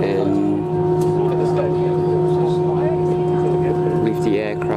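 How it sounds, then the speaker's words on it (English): An airliner jet engine starts up at Milano Linate Airport, a steady tonal whine and hum heard from inside the cabin, rising slightly near the end, with a voice talking over it. "So that's the sound of the engine start up"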